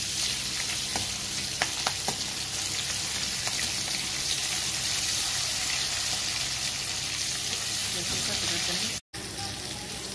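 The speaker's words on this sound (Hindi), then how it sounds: "ਪਿਆਜ਼ ਸਾਡੇ ਵੀ ਫਰਾਈ ਹੋ ਗਏ ਨੇ ਸਾਰੇ" Onions frying in oil in a kadai, a continuous soft sizzle mixed with occasional stirring scrapes and light clinks, with a brief dropout near the end.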